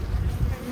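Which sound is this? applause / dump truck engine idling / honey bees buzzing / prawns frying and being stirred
honey bees buzzing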